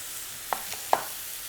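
Tofu and vegetables with spices sizzling in a pan for a roast tofu meal prep, giving a steady hiss throughout with a few small pops and stirring clicks, close and moderately loud.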